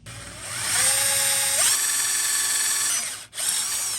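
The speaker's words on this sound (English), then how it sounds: "so I'm going to drill a hole here" A power drill bores a hole in a metal bracket while a friction drive engine is being set up on a motorized bicycle, giving a steady high whine for about three seconds before it stops briefly and then starts again.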